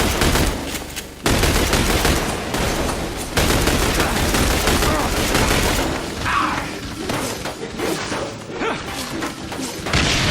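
Sustained gunfire in the video game The Bureau: XCOM Declassified, loud overlapping bursts of automatic fire and heavy impacts filling the whole stretch, easing slightly toward the end.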